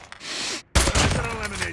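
Sniper gunfire in a video game: a sharp, loud blast cuts in after a brief silence and rings out with a ragged metallic tail, preceded by a short hissing noise.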